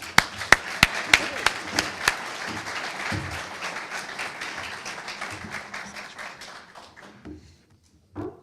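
Audience applause greets the Chamber of Commerce President at a State of the City address, opening with several sharp, loud claps close by over a dense crowd clatter that carries steadily, then thins and fades out near the end.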